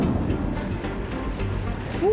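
A safari vehicle pushes through a shallow, low river, with a steady wash of splashing water and engine rumble close by, ending on a rising engine whine.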